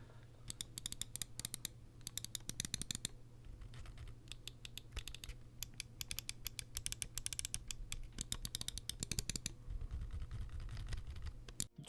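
Soft, rapid clicking and tapping of a keyboard and a Glorious Model O Minus mouse in quick bursts, close and quiet, with brief pauses between flurries.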